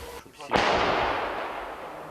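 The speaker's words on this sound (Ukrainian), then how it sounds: "гармаші намагаються стріляти поміж прольотами ворожих дронів" An artillery gun fires in combat, a single sharp heavy blast near the middle followed by a long rumbling decay, close and loud, with a voice speaking just before the shot.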